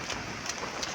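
Steady rain hissing down continuously on a roof or outdoor surface, a dense even wash of drops with no voices, loud and close throughout.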